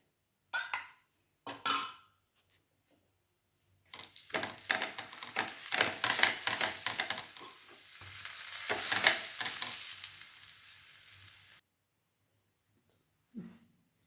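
Sweet potato paratha fries on a pan. Two brief scraping knocks come first, then about seven seconds of close, steady sizzling mixed with stirring and scraping, ending in silence with one last faint clink.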